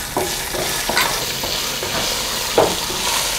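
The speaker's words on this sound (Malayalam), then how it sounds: "കറുവാപ്പട്ട, കുരുമുളക്, തക്കോലം ഇത് നമ്മൾ ആ നെയ്ക്കകത്തിട്ടിടുകയാണ്" Cinnamon, black pepper and star anise sizzle steadily in hot ghee, a continuous close crackle broken by a few soft stirring knocks, with no talking.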